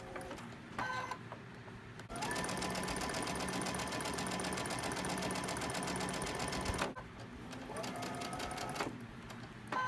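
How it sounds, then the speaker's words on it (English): A sewing machine stitches a Halloween quilt block in a fast, even mechanical whir. It starts and stops a few times, runs at length in the middle, and sounds close and moderately quiet, with no one speaking over it. "since I know that I'm sewing from the left down this direction, I went off the center so I won't hit my pin"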